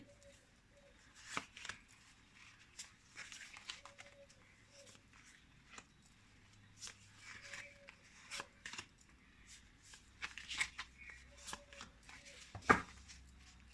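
Tarot cards are shuffled by hand in a quiet room, soft intermittent riffling and sliding with small taps and pauses, faint and close, building to a brief sharper flurry near the end.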